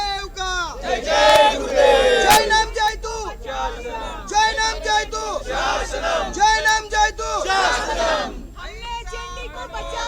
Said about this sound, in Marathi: जैन बोर्डिंगमध्ये जैन समुदायानं हा जल्लोष केला